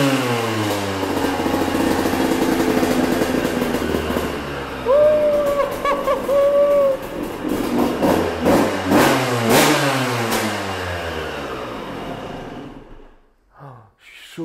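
A Yamaha 125 RM two-stroke motorcycle engine revs up and down repeatedly, loud and close with strong vibration, its pitch rising and falling before the engine cuts off near the end.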